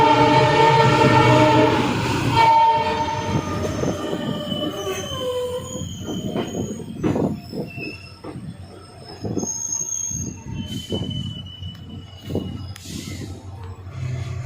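The Salasar Superfast train pulls into Ladnun railway station in India. Steel wheels squeal loudly and continuously at first, followed by a steady rumble with repeated clanks and knocks as the carriages roll in and slow down.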